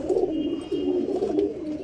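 A pigeon coos close by in a steady, throaty rolling series of low murmurs with no voices.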